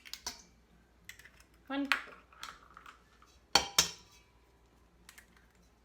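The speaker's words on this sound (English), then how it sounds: "I'm gonna crack our 2 eggs" Two eggs cracked against the rim of a big mixing bowl for banana bread, a few sharp separate taps and cracks heard close up among kitchen clatter, with a person talking briefly.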